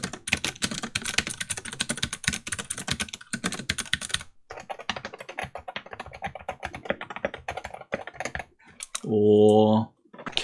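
Rapid mechanical keyboard typing, comparing a Wooting 60HE against Cherry MX Blue switches, a dense stream of close clicky keystrokes with a short pause midway and a brief tonal beep near the end.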